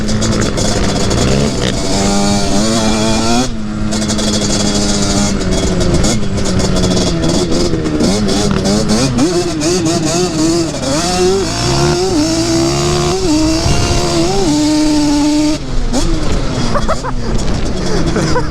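A Voodoo Banshee ATV screams at full throttle along a coal-country trail on pump gas, its two-stroke engine loud and close, with sustained high revs and rising and falling pitch as it shifts, the tires breaking loose.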